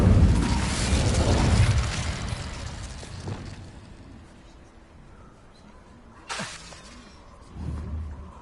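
An Incendio fire spell cast in the Hogwarts Legacy video game bursts with a loud roaring whoosh that fades over a few seconds, then a brief sharp crackle and a low rumble follow.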